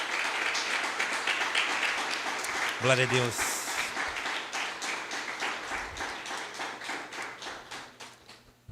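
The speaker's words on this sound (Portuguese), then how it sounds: "Você pode aplaudir o Senhor em seu lugar?" A church congregation applauds during a worship service, with steady clapping running underneath a man's spoken prayer and praise.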